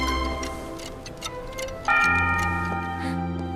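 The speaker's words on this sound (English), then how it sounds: "Suddenly, she heard the loud chiming of the palace clock." A palace clock in a fairy-tale ballroom rings out with loud, sustained bell-like chimes that swell in partway through and keep ringing steadily, with no voices over them.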